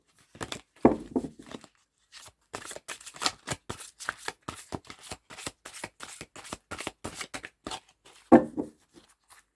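Tarot cards shuffled by hand, with loud riffling bursts at the start and end and a steady run of rapid papery flicks and snaps between them, close and clear, no talking.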